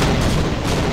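A grenade explodes in the video game Half-Life, a loud, close, rumbling boom that fills the whole brief moment with no speech over it.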